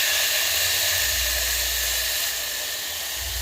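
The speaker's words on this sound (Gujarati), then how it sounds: "જીરું નાખ્યા પછી તરત જ આપણી પાસે એક આવો ગળો લઈને જાળીવાળો ડાયરેક્ટ સીધું જ હું વઘાર કરી નાખીશ" A loud, continuous sizzle of cumin seeds hitting hot oil for tempering, a steady bright hiss that barely changes from start to finish.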